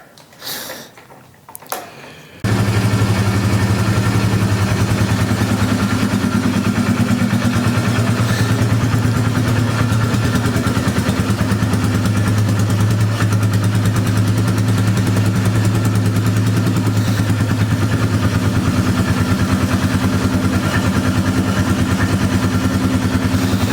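A Polaris 325 Magnum ATV engine with a troublesome carburetor starts after a brief quiet moment, then runs continuously at a loud, close, uneven idle with a steady low drone.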